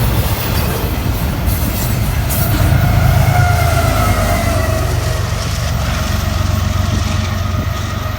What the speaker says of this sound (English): I love to see DPUs on intermodals, and here came one, original ES44AC